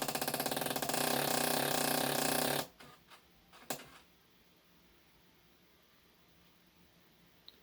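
An iMac gives off a loud, steady mechanical whir with a rapid ratcheting rhythm for about two and a half seconds, then stops abruptly, followed by a few short clicks and a quieter hiss.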